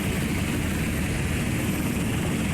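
A helicopter in the naval game Sea Power gives off a steady, loud engine and rotor roar that stays constant throughout with no pauses.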